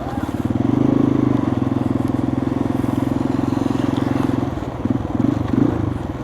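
Motorcycles ride through a flooded road in front of Camp Olivas, a steady close engine drone with some splashing and clatter running throughout.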